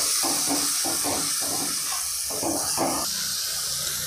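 Mustard masala paste for pabda fish fries in a pan as water is sprinkled in, giving a loud, steady steamy hiss with rhythmic bursts of scraping as the paste is worked, no voices.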